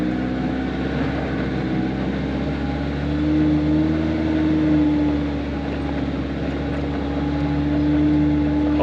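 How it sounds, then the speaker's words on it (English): A Suzuki Samurai 4x4 in second gear and two-wheel drive grinds up a dirt trail in Butterfield Canyon, its engine a steady, close drone with a harmonic whine that rises slightly midway as the load builds, with no talking. "We're gonna start in second gear. I'm still in two-wheel drive"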